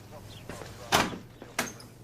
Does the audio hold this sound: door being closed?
yes